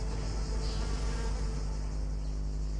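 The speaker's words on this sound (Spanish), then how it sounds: "Sí, parece una avispa, pero es una abeja. Es una Antidium, de la familia de las Megachilidae." An Anthidium bee of the Megachilidae family buzzing outdoors, a faint, continuous insect drone with a slight shift in pitch, heard alone without speech.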